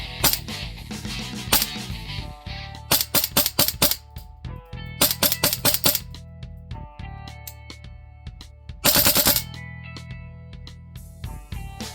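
A stock Tokyo Marui AKM airsoft gun fires 0.2 gram BBs in sharp clattering bursts of quick repeated shots. Several full-auto strings are separated by pauses, with a mechanical hum and ringing tones between them, and no talk.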